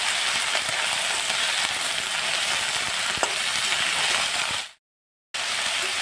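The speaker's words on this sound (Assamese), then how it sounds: "এইখিনি অলপ তেলত ফ্ৰাই কৰি ল'লোঁ" Broccoli and seeds fry in a little oil, giving a loud, steady, close-up sizzle with faint crackles that continues evenly before cutting out briefly near the end and then resuming.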